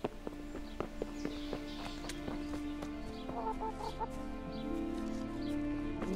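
Chicken in the medieval world of the Kingdom Come: Deliverance video game, soft intermittent clucks over a steady ambient bed, mixed with scattered footstep-like thuds and a low sustained tone.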